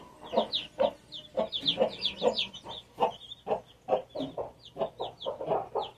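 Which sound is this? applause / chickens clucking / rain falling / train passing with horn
chickens clucking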